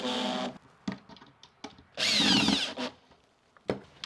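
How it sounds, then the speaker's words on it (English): Power drill driving screws into a wooden beehive brood box, several short whirring bursts with one long loud run in the middle, separated by quiet pauses and small handling knocks. "just do up all the screws"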